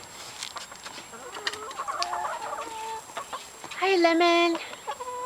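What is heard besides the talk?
backyard chickens clucking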